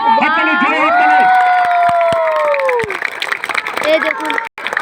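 Schoolchildren at a school gathering cheering loudly together, long shouted voices rising and falling, followed by scattered clapping and crowd noise, close and energetic.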